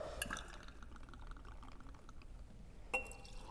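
Buffalo Trace bourbon being poured into a glass mason jar gives a quiet trickle of liquid framed by light glass clinks near the start and end, close and soft, with no voices.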